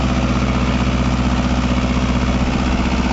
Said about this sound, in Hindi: दूसरे लो में ट्रैक्टर चलाएंगे